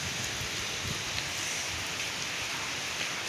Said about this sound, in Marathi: पावसाचा आवाज येत असेल तुम्हाला.